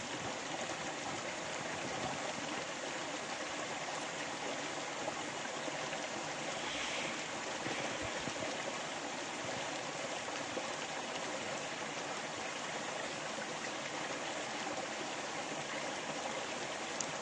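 Creek water flows steadily in an afternoon outdoor setting, a continuous broadband rush and babble with no speech, holding an even level throughout.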